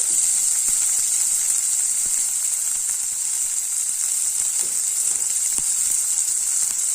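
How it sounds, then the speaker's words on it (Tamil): Fresh beans, carrots and corn sizzling in a pan for pearl millet kanji, a constant bright hiss of frying with faint occasional stirring taps, steady and close throughout. "எல்லாத்தையும் நல்லா வதக்கி விட்டுறலாம்"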